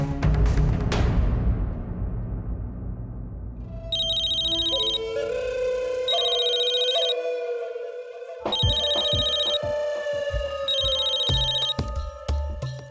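A telephone rings in four repeated electronic bursts over dramatic background music, following a sharp crash that fades out at the start.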